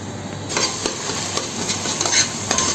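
Onions and tomatoes sautéing in a pan for Hyderabadi-style chicken dum biryani, with a spoon scraping and stirring in repeated strokes over a steady soft sizzle, close and fairly quiet.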